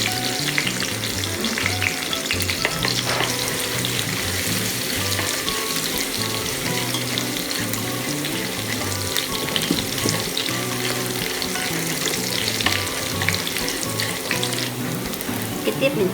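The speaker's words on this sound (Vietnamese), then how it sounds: "Hành nghe hơi thơm rồi là mình cho tỏi vô." Garlic and shallots sizzle and fry in hot oil, a dense, steady crackle that stays loud and continuous throughout with no talking, while Hue-style bun bo broth is being made over a wood-fired stove.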